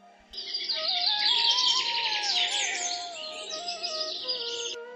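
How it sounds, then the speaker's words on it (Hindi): Birds chirp and sing steadily in a forest on a morning after rain, a dense layer of overlapping calls that starts abruptly, stays fairly loud for about four seconds and then cuts off. "पक्षियों की चहचहाहट फिर से जंगल में सुनाई देने लगी थी।"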